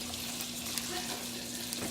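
Fettuccine alfredo sauce with chicken, shrimp and shredded parmesan is stirred in a pan, giving a soft steady bubbling and scraping hiss throughout, fairly quiet and close.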